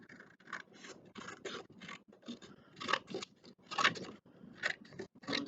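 Scissors snip lengthwise through paper to form a thin tree branch, with a close, quiet series of irregular cutting crunches and rasps and no talking.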